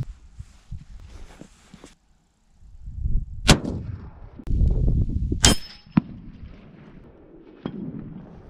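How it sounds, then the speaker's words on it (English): A Remington 700 PCR rifle in 6.5 Creedmoor fires on an outdoor range at a steel target 350 meters away: two sharp, loud cracks, each followed a moment later by a faint metallic ping from the distant plate. "350 meters! First shot, impact!"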